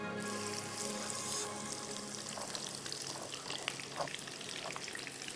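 Sliced onion fries in hot oil with a continuous close crackling sizzle and a few soft pops, without any talking.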